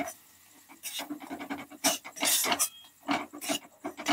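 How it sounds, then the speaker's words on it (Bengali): Spices with Kashmiri chilli powder are stirred and fried in a pan for a Roopchand fish curry, sounding as irregular close scraping and sizzling bursts of a spatula against the pan. "মশলাগুলো দেওয়ার পর আমি 2 মিনিট ধরে খুব ভালোভাবে কষিয়ে নেব"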